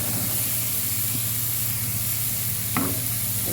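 Mutton hits a frying pan with garlic paste, giving a loud, steady sizzle and hiss throughout, with a brief clatter of stirring near the end.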